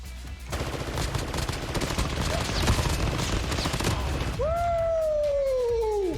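Rapid bursts of automatic gunfire fill a Call of Duty: Mobile battle royale match, dense and loud, followed near the end by a rising tonal game sound over continued clatter.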